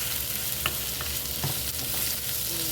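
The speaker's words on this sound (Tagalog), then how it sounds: "Maingay yung exhaust fan." A steady, broadband whoosh of a kitchen exhaust fan fills the space continuously, with faint sizzling and clinks from cooking fish cakes underneath.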